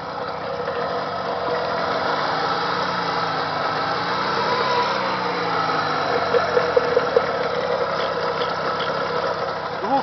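Jawa 638 motorcycle two-stroke engine running steadily nearby at a test, with a continuous rough mechanical drone throughout.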